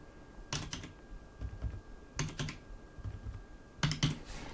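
Soft, muffled presses on a Logitech MK295 silent wireless membrane keyboard come in small bursts of two or three taps, close by and quiet, with pauses between each burst.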